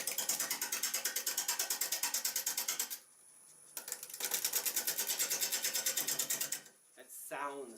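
Wood lathe spinning a hollow-form workpiece at about 500 rpm, a rapid rhythmic rattling chatter in two long bursts separated by a quieter pause, fairly faint overall.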